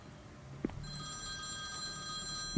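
An old telephone ringing inside a shack in the Priest Simulator video game, a sustained electric bell tone starting after a soft thump and continuing steadily, moderately loud against a quiet background.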